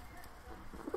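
Soft cooing from Sivas play pigeons (oyun kuşu) kept by a breeder, a few low murmuring coos building toward the end, fairly faint over a quiet background.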